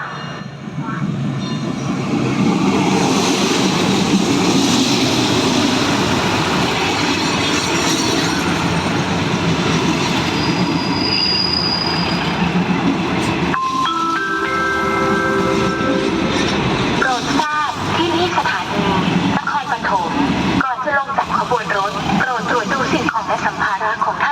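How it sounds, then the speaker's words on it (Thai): Special excursion trains 909/911 roll into a Thai railway station platform with a long, loud rumble, squealing wheels and horn-like tones, while a public-address announcement plays over the noise. "อีกสักครู่จะมีขบวนรถพิเศษนำเที่ยวขบวนที่ 909 และขบวนที่ 911 จอดเข้าเทียบในชานชาลาที่ 1 ค่ะ"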